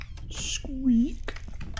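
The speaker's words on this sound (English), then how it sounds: "So much squeakage." A single rising and falling squeak sounds in the horror video game Layers of Fear, brief and fairly close amid light clicks and clatter, with a voice speaking around it.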